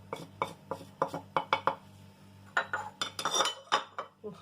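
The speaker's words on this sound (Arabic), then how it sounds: "ونخلطو مزيان هاد العناصر هكا باش يندمجو لينا مع بعضياتهم" Spoon clinking and scraping against a bowl while ground cumin, turmeric, paprika and salt are mixed together for sardine kofta, a series of close, sharp taps followed by a busier cluster of scrapes, with no talking.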